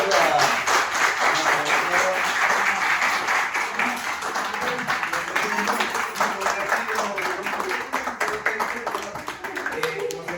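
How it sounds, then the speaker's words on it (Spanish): Audience applause follows an introduction at a history lecture about Santiago del Estero, with steady clapping from a modest crowd and voices murmuring beneath it throughout. "le damos un fuerte aplauso"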